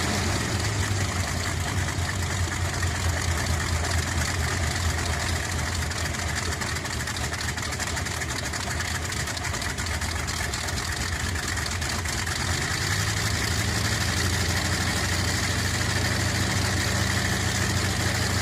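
A WWII Halifax bomber radial aircraft engine runs continuously with a loud, dense, rumbling roar, steady throughout with a slight shift in low tone partway through.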